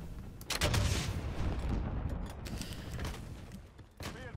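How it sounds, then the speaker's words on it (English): Gunfire from Call of Duty: Modern Warfare multiplayer, a dense run of loud game shots and bursts filling most of the clip, with a brief lull near the end before more firing. "You're shooting a tree."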